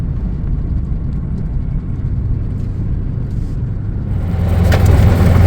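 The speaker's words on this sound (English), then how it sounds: "on a very noisy golf cart" A noisy golf cart driving outdoors at a campground in Durango, Colorado, a close, rough engine rumble that swells louder near the end.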